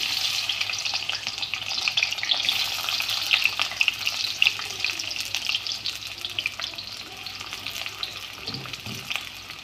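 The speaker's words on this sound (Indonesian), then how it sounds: "Sekarang saya nak goreng peria." Bitter gourd frying in a pan, a loud, steady crackling sizzle with occasional stirring scrapes, close and continuous without talk.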